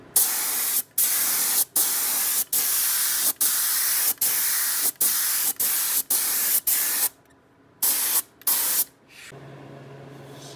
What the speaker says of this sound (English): I don't like the atomization in this gun. Wondering if I should turn up the air a little bit.